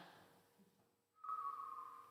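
A person whistles a single sustained, steady note that cuts in clearly after a brief near-silence, alone with no talking, during a choir gathering.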